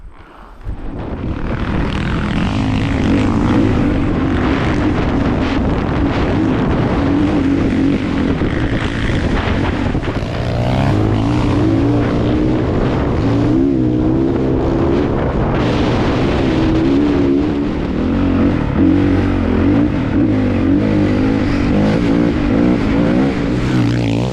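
A 2023 Honda CRF 450R 50th Anniversary dirt bike engine runs loud and close throughout, a steady, continuous roar with shifting revving and no talk.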